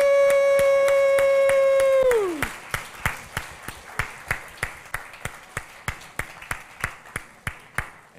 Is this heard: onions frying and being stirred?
no